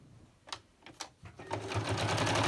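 A sewing machine starts with a few short stitches, then runs into a steady, fast whirring stitch that builds and holds, close by.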